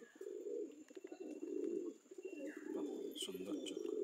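Pigeons coo in a steady, close run of soft low calls with a few brief chirps, a voice talking intermittently over them.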